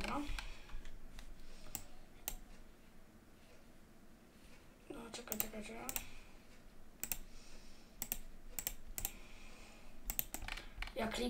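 Rapid keyboard typing and mouse clicking during a Rise of Nations speedrun, bursts of sharp clicks and keystrokes close up, with a voice talking between them.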